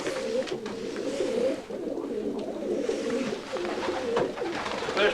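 Racing pigeons in a loft coo continuously, a close, dense chorus of overlapping low throaty calls with several birds at once.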